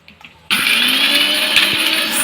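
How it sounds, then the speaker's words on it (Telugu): An electric mixer grinder starts abruptly and runs at a loud, steady whine while grinding dry chillies, mustard seeds and lentils into a fine powder for an amla coconut chutney, the spice bits rattling faintly inside. "వీటిని కూడా ఇందులో వేసేసి ఇది కొంచెము ఫైన్ పౌడర్ అయ్యేంత వరకు గ్రైండ్ చేసుకోవాలి"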